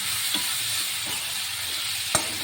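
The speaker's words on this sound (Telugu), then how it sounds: "రొయ్యలు కొంచెం పసుపు ఉప్పు వేసుకుని బాగా ఫ్రై చేసుకోవాలండి" Shrimp frying with turmeric, salt, tomato, onion and green chili in a home kitchen, a constant hissing sizzle with a couple of faint utensil taps, no talking.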